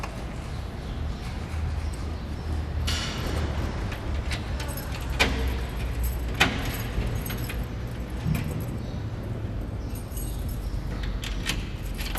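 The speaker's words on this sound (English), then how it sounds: "3 keys are required to open the safe that contains the still intact holy books that belong to the Edessa community" Keys jangle and clink as three keys are used to open a church safe holding old holy books of the Edessa community, close metallic rattles and sharp clicks scattered across a steady low background rumble, with no speech.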